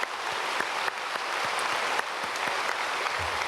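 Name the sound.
congregation applauding in church service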